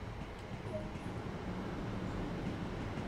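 A computer-driven train arriving in Train Sim World 2020 on the East Coastway route, a steady low rumble and rolling rail noise that holds at an even level throughout, with a faint tone briefly rising above it.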